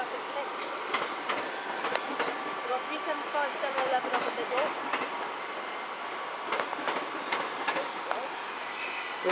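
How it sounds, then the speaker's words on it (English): Class 375 electric multiple units at Ashford International station, with a steady rumble of the train moving through, faint clicking wheels over rail joints and occasional squeals, while someone talks over it. "375711 in the high speed livery, and 375708 bound for London Charing Cross."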